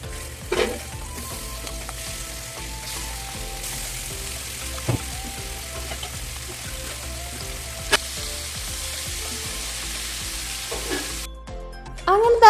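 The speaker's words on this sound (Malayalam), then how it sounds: "അങ്ങനെ നമ്മൾ ചെമ്മീനൊക്കെ എണ്ണയിലോട്ട് ഇട്ട് കൊടുത്തിട്ടുണ്ട്." Prawns frying in a little oil in a home kitchen: a continuous low sizzle with occasional clinks and scrapes of a utensil, and a brief clatter near the end, with no speech.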